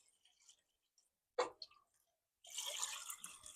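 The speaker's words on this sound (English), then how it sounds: "Now I'm adding my coconut milk." Coconut milk poured into a pan of sautéed seasoning for a vegan chickpea and butter bean dish, starting as a brief wet splash and settling into a steady close liquid pour with soft bubbling.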